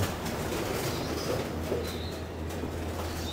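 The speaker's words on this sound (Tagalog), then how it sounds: "liparan na mga kalapatids" Pigeons burst out of an opened loft into the air, a steady rush of wingbeats and soft coos over a constant low hum, with no talking.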